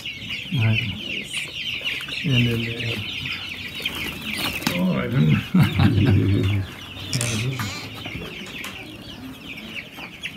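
Four-week-old chickens in a convent poultry farm in Nigeria cluck and squawk close by in a busy, continuous chorus, with a few brief wing flaps, while people talk quietly over them.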